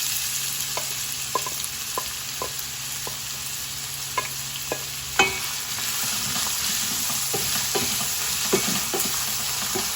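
Onions frying in a pan for a sauce sizzle steadily and close by, with scattered sharp clicks and taps of a spoon stirring throughout and no voices.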